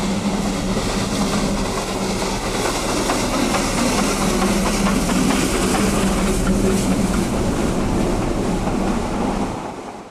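Garratt steam locomotive No. 143 in black South African Railways livery pulls away from a station on a Welsh narrow gauge line, a steady loud roar of exhaust and hiss with rumbling running gear throughout, fading at the end.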